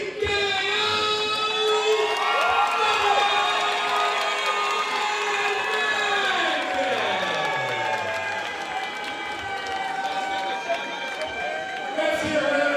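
Crowd at a boxing promotion event applauds and cheers for boxer Sean Wolf after a knockout win, a continuous din of clapping and shouts beneath a ring announcer's amplified, echoing voice and music.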